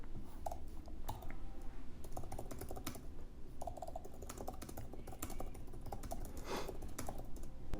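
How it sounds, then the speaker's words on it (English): Steady typing on an Apple Magic Keyboard for iPad Pro, quick soft key clicks in an even rhythm, close and fairly quiet, with no talking. "Typing experience is much better from this iPad Pro keyboard, the new Magic Keyboard."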